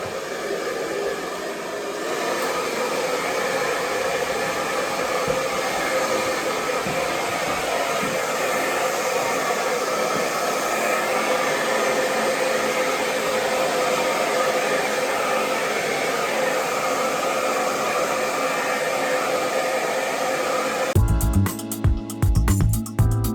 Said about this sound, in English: I like to blow dry.